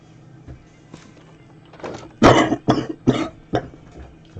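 A few sharp coughs in quick succession after some quiet shuffling, fairly close and loud, then a softer noise trailing off.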